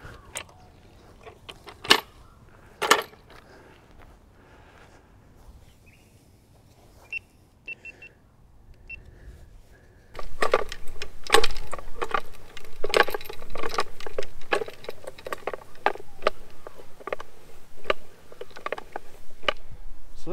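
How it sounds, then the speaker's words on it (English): A Tirfor-type hand winch rigged as a double pull drags a car with its handbrake on for 4x4 recovery; sparse metallic clicks at first, then a steady run of ratcheting clanks and creaks, with no talk. "There you go, there's a test or a demo of the, I think they're called a Tirfor, or mine's a big haul, but I think the type is a Tirfor winch."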